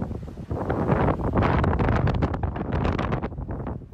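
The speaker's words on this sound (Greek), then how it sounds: "Οι θυελλώδεις άνεμοι ξεπέρασαν τα 10 μποφόρ, με τις ρηπές να φτάνουν τα 110 χιλιόμετρα ανά ώρα" Storm-force wind above 10 Beaufort, gusting to 110 km/h, batters the microphone during a snowstorm in northern Greece: a loud, continuous roaring rush with surging gusts and no voices.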